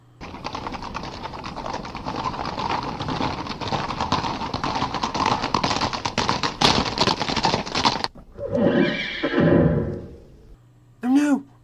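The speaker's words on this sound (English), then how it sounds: "Oh no, a horse!" A horse approaching on hooves along a snowy lane, steady clip-clop building up close over several seconds, then a few softer thuds and a short bird-like call near the end.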